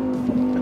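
A Lamborghini Huracán EVO RWD Spyder engine holds a loud, steady tone for a brief moment, close and sustained with no voices.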